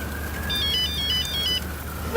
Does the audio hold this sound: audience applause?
no